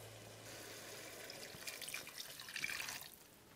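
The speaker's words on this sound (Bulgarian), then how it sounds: "И сипвам още вода." Water is poured into a cooking pot of potatoes and tomatoes, a soft splashing trickle that swells in the middle and fades out, fairly quiet and close.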